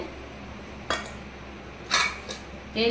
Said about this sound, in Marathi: हे बघा आता भांड्यांना तेल लावून घेते.